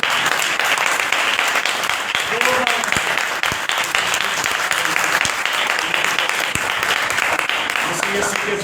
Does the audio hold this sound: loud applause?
yes